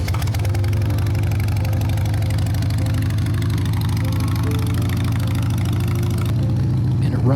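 A Harley-Davidson Sportster motorcycle engine idling close by, a steady loud low rumble with even pulsing firing beats that run on without a break.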